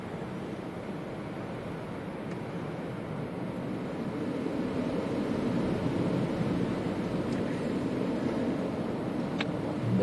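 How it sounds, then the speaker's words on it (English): Stormy Christmas Eve wind at Leeds Bradford Airport, gusting to 45 knots, makes a steady distant roar through trees that grows stronger partway through and stays as a fairly faint, continuous rush. "The wind's really whipping up all of a sudden. We can hear it in the trees."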